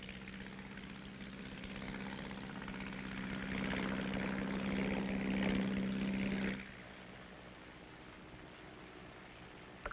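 A propeller-driven fire control plane flies overhead during Korean War artillery action, its steady droning engine swelling louder mid-pass before cutting off abruptly about two-thirds through, leaving quiet background hiss.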